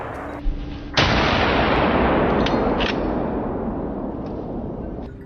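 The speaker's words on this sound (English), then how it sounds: "A thunderous bang echoed, and one boar dropped instantly." A single loud gunshot from a hunt of a wild boar herd on a forested hillside, a sharp blast followed by a long rolling echo that slowly fades across the slope.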